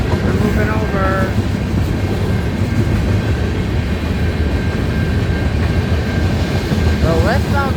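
A westbound freight train passes close by in the evening with a loud, continuous rumble and clatter of rolling cars. Faint voices rise briefly near the start and end.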